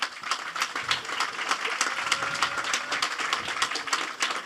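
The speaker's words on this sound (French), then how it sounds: "Je vous remercie de l'applaudir d'abord" Applause from an audience at a French sports business panel, steady scattered clapping of moderate loudness throughout, with no talk over it.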